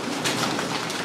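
Pigeons coo inside an abandoned theatre, a soft throaty murmur over a dense, reverberant background with no voices.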